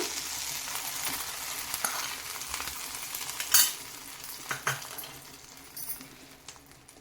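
A spoon stirring fried ingredients into wheat payasam in a pot on a gas stove, a soft steady bubbling simmer with scattered light scrapes and clinks of metal against the pan.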